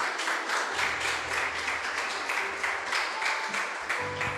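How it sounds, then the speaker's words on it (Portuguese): A church congregation claps steadily in sustained applause, the rhythmic clapping filling a large room with faint voices underneath. "Dê um aplauso ao Senhor Jesus."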